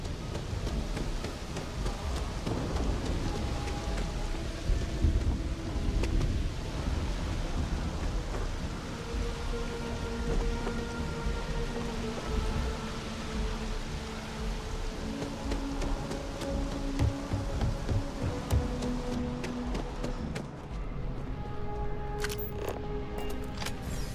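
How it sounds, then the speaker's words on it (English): Steady hiss of rain with occasional low rumbles, continuous and fairly loud throughout, with faint tonal game sounds layered over it, in the video game Starfield. "Oh, it's raining. That's cool."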